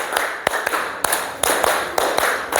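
A group of people in a classroom-style gathering claps in unison in a rhythmic morning spirit clap, sharp synchronized hand claps in quick repeating bursts, loud and close.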